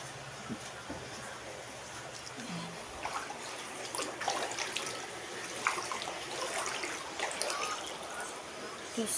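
Water trickles and runs steadily out through an opened door of a flooded room during a 2025 flood in Naic, Cavite, a soft continuous flow with faint splashes and no talking.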